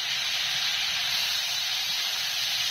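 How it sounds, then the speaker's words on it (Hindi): Prawns mixed with turmeric and salt sizzling as they fry in a kadai, a loud, steady hissing sizzle that holds continuously without a break. "प्रॉन को बस थोड़ा ही फ्राई करना है, 30 सेकंड तक इसको फ्राई करना है।"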